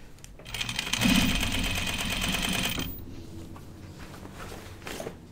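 A sewing machine runs steadily for about two seconds while stitching a jacket, then stops, leaving faint handling noises and quiet room sound afterward.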